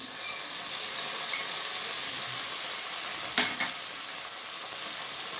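A spice paste of ground ginger, cumin and pepper sizzles steadily in a frying pan with fried tomatoes, a continuous close hiss with a brief stirring scrape partway through.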